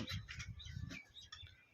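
Pigeons settling into a new loft give soft, close chirps and coos in short bursts, with faint rustling between calls.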